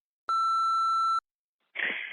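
A single electronic voicemail beep, a steady pure tone lasting about a second, rings out clearly on its own, followed after a short pause by the start of a recorded message.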